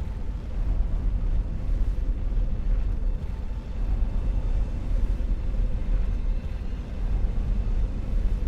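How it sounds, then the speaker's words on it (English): A large elevator rising in Elden Ring, heard as a steady low mechanical rumble and hum that holds at an even level throughout with no talking. "Big elevator up"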